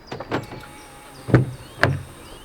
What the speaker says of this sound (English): The door opens nice and wide, and this is a decent opening.